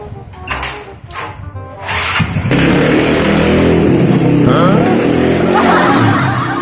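A motorcycle engine, not yet fully repaired after servicing and spraying oil, idles roughly with a few sharp throttle blips, then roars into a loud, sustained rev that holds steady close by.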